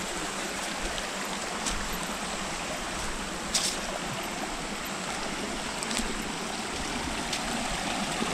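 River water near Pito Waterfall flows in a steady, broadband rushing hiss, continuous and fairly close, with occasional faint clicks and no voices.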